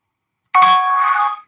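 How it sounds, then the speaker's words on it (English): A notification chime rings out of silence, one bright, clear tonal ding that holds about a second before cutting off, loud and alone. "Notification. I should turn that down, sound down, I guess."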